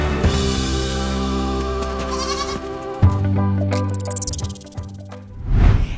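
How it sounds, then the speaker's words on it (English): Guard goats on a Humboldt cannabis farm bleat loudly and close by in a few wavering calls over several seconds, with no one speaking. "watch out for the guard goats."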